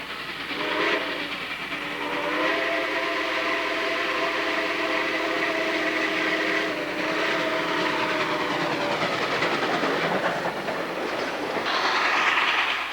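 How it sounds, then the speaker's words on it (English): A big blue locomotive pulls a passenger train, its steady loud rumble and clatter running throughout, with a sustained whistle-like horn tone through the middle before the sound brightens near the end. "Here's the big blue locomotive we saw earlier. It is pulling a passenger train loaded with people."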